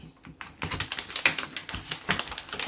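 PC components clicking into place during a full computer assembly, heard as a rapid run of close, sharp plastic clicks and snaps that fire in quick irregular bursts.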